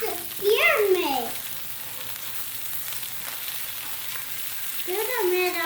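Salmon sizzling steadily on a hot Blackstone griddle as the pieces are flipped, a constant close frying hiss under brief bursts of a voice at the start and end.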